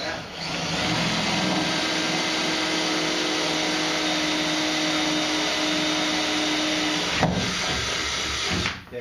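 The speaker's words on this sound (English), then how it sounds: "just go ahead and drill that." A steady, loud mechanical whine of a power drill with an eighth-inch bit drilling metal runs continuously for several seconds, pausing briefly near the end.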